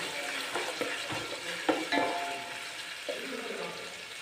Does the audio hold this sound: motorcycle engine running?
no